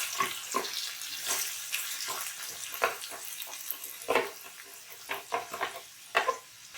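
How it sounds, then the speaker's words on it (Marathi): Chopped onion and tomato fry in hot oil for a Goan prawn curry, a close wet sizzle broken by uneven scraping and splashing clatter as the pan contents are stirred. "कांदा टोमॅटो लालसर होईपर्यंत भाजून घेऊया."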